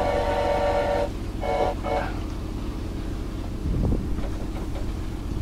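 A damaged train in the video game Choo-Choo Charles rumbles and rattles steadily throughout, with a brief horn-like tone early on and a low thump near the end, under faint background noise.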